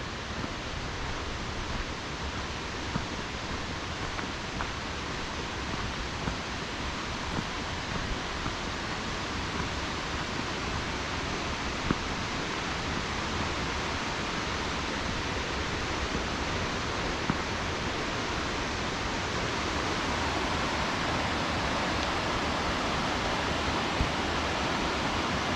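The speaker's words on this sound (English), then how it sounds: "It is nice hearing the sound of the creek" Steady, full rushing water flows continuously with no pauses, a broad even wash like a nearby creek running over rocks, beside a hiking trail among big trees near North Bend, Washington.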